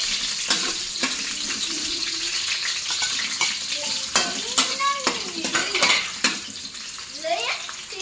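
Ginger stirred into a frying pan with onion while cooking crabs in coconut milk and curry powder: steady sizzling with repeated utensil scrapes and clinks against the pan, some clatter loud and close, with voices in the background.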